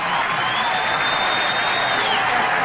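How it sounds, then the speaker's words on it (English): A Yankee Stadium crowd at an Angels–Yankees baseball game swells in a steady roar of noise before a two-strike pitch, dense and sustained on a vintage radio broadcast. "Now the crowd again. They build up to every 2-strike pitch."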